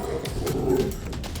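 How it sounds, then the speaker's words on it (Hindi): A dog barks in quick, loud, close yips and bow-wows, some edging into whimpers, with no talk over it. "आपको भी देखकर ये भौंक रहा है।"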